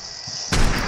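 A tank cannon fires once in an Unturned WW2 battle, a sudden loud boom halfway through that rolls into a broad rumbling tail after a faint, quiet lead-in.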